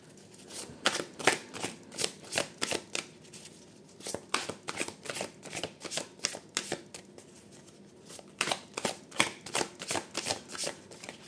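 Tarot cards being shuffled and drawn, a steady run of quick papery riffles and flicks, close and fairly quiet, pausing briefly around the four- and eight-second marks before resuming.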